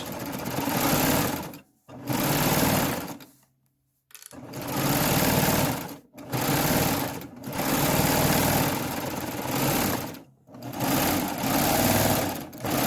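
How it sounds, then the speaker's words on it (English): A serger overlock machine stitches along the edge of a chambray tote in loud close bursts, several runs of whirring stitching separated by short pauses. "we're just going to go ahead and serge this whole side"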